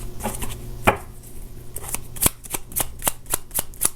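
Tarot cards being shuffled and drawn, a series of crisp close-up riffles and snapping card flicks in a quick uneven rhythm, quiet room otherwise.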